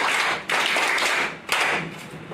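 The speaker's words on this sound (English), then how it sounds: "Let's have one round of applause for Admiral Salami." A round of applause at an association's annual general meeting rises as dense clapping from a crowd, fading and swelling again in two bursts.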